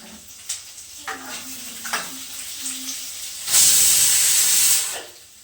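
Onions sizzling in hot oil with curry leaves, garlic, mustard seeds and cumin in a home kitchen, a steady fry with a few stirring clinks, swelling into a loud hissing burst of steam near the end.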